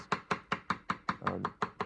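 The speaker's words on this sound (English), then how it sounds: "So you keep chopping and chopping and chopping." A kitchen knife chops roasted jalapeños on a board into a paste, giving steady, evenly spaced close thuds at about five per second, with a brief scraping smear partway through and no voices.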